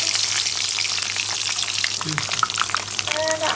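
Potatoes fry in butter in a pan for Bengali-style jackfruit curry, a steady hiss and crackle of sizzling oil with a few stirring scrapes near the end.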